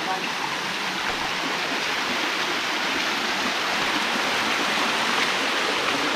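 Steady broadband roar of the second of a series of waterfalls, loud and continuous with no pauses, filling the whole stretch like heavy rushing water.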